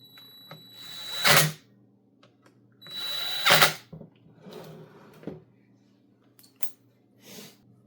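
A power drill drives screws into the shaft of a Husqvarna string trimmer in two short, loud whirring bursts separated by a pause, followed by softer handling clicks and rustles.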